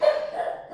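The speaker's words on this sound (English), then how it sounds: "that is my dog again" A pet dog gives one short, sharp bark followed by a brief whiny trailing tone, close and fairly loud, with nothing else around it.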